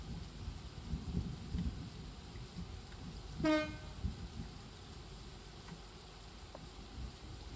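A train in the Train Sim World 6 video game sounds a single short horn toot over a steady low rumble of running wheels and engine, fairly quiet overall.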